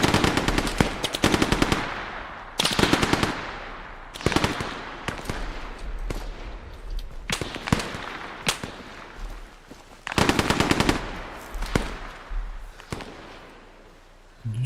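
Machine gun fire in the military video game Arma 3, coming as repeated rapid bursts of sharp automatic shots with brief pauses and scattered single cracks between them, loud and close.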